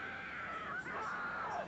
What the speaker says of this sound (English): I hate the screaming!